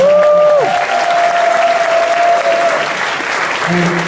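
A convention panel audience at New York Comic Con breaks into loud, sustained applause and cheering, dense clapping filling the room throughout with a few whoops rising above it.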